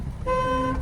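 After a brief muffled rumble, a car horn sounds once, a short, steady honk held to the end.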